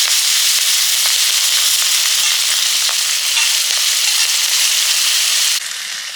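Tempering spices and green chili sizzling in hot oil for a tamarind dish, a loud, close, constant hiss with fine crackles and pops that drops slightly in level near the end.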